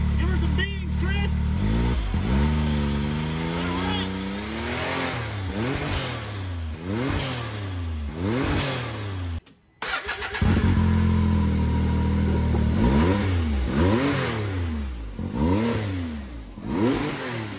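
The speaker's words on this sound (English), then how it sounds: "That is us submerging a blow-off valve, shoving it, water down its throat, revving it." Can-Am Maverick X3 side-by-side engine revs again and again with its blow-off valve submerged in water, each loud, close rev climbing and falling in a steady rhythm, with a brief cutout near the middle.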